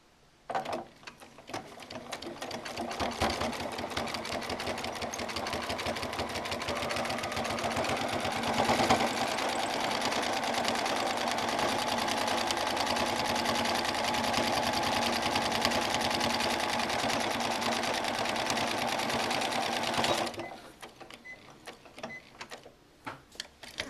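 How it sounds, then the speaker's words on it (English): A sewing machine stitches a serpentine stitch along a quilt sashing strip, a loud steady rapid mechanical whir running for about twenty seconds before stopping, then quiet handling noises. "I just sew the serpentine stitch back and forth."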